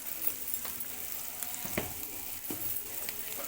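Spicy paneer tikka pieces sizzle in a pan, giving a quiet, continuous crackle with a few sharper stirring scrapes and pops along the way.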